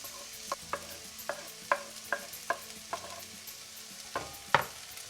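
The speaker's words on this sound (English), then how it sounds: "And then we saute our onion and garlic." Onion and garlic sautéing in a little grapeseed oil in a warm pot, with a series of sharp stirring scrapes and taps over a soft, steady sizzle, close and fairly quiet with no talking.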